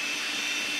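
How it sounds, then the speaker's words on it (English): A small handheld vacuum cleans dust out of a Roomba 650 robot vacuum, giving a steady, close, loud whooshing whine that runs without a break for under a second. "I'll use my little hand vac here."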